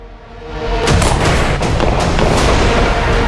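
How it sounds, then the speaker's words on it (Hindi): Celebratory gunfire on the streets of Lahore, Pakistan, a dense, continuous barrage of overlapping shots and booms that builds quickly and stays loud throughout. "लाहौर में सड़कों पर बरसती हजारों गोलियों का यह शोर"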